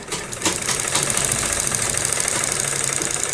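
Continuous mechanical whirr of a sewing machine running basting stitches along a buckram neckline, a steady, close, even drone with a small click near the start and no talk.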